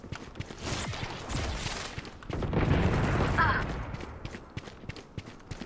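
Pistol fire and other game effects sound in a first-person shooter, with dense overlapping shots and impacts. The shots are fairly loud and continuous and peak in the middle.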